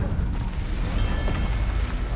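Fiery spell cast in Hogwarts Legacy during a wand duel, a dense rumbling whoosh of flame with crackling bursts and mechanical clatter, loud and sustained throughout with no pause.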